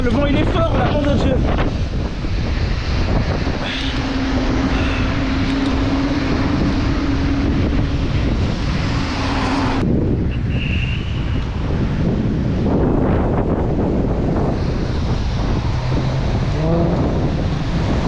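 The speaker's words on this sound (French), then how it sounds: "le vent il est fort là" Strong gusts buffet the microphone throughout in a continuous heavy rumble and roar, swelling and easing but never stopping, outdoors during a delivery run.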